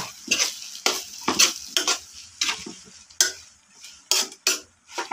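Pancit noodles stir-fried in a pan, with repeated loud scraping strokes of a utensil against the metal over a steady sizzle, about eight or nine uneven bursts spread across the moment.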